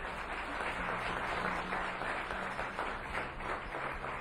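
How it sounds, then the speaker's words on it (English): An audience applauds as the judges come up at a street pitch event, with steady, moderately distant clapping that runs throughout. "Come on up and give them a round of applause as they come."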